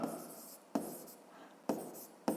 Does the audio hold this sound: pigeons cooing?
no